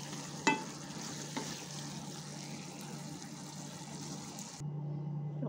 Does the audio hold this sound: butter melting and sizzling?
yes